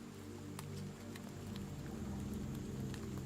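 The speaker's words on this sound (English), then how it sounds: "With a little bit of rain effects added in." Rain effects layered over calm, peaceful music, a steady soft patter of drops with occasional brighter drips sitting on top of sustained musical tones throughout.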